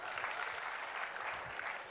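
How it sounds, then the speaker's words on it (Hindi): Audience applause fills a live program, with steady broadband clapping from a crowd holding an even level for about two seconds, no voices standing out. "जोरदार तालियां हो जाए आप सभी लोगों के लिए मेरे दोस्त।"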